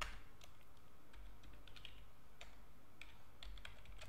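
Someone types on a computer keyboard, with quiet, close keystrokes clicking in an irregular patter against a faint background hum.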